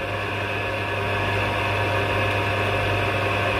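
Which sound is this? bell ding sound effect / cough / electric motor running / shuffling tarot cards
electric motor running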